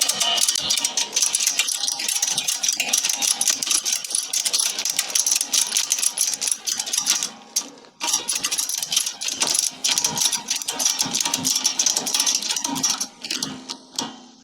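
Ratcheting strap on a CRAVOT M1 Max motorcycle rack being cranked, giving dense, steady mechanical clicking and rattling that runs nearly the whole time, close and loud, with a couple of brief pauses and no talking.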